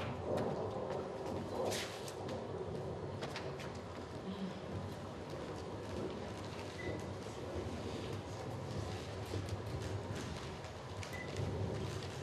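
Steady rain pours under rolling, rumbling thunder in a continuous storm, with occasional louder crackles over a dense wash of noise and no one speaking.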